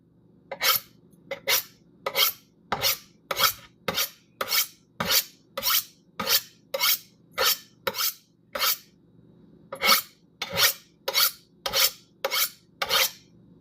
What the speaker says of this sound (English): Sharpen the knife.